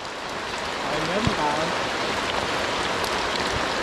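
Rain falling steadily outdoors, a dense even hiss of drops on surfaces lasting throughout with no pauses.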